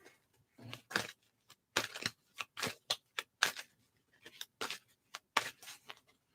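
Tarot cards being shuffled by hand in quick bursts of riffling and slapping, close and crisp, with short pauses in between and no talking.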